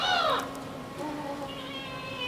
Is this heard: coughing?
no